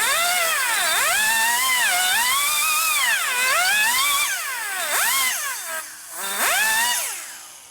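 A high-pitched power tool grinds into the port of a stroker Shovelhead big-bore Harley engine, whining loudly and continuously, with its pitch swooping up and down as it bites and eases off, close up.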